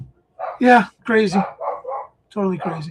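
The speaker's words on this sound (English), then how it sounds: "Sorry about the dog again." A dog barks several times in the background in short, loud bursts, mixed in with a person talking.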